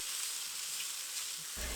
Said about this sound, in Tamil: நல்லா ஒரு 2 நிமிஷம் அந்த மசாலாலேயே நல்லா வதக்கிக்கலாம்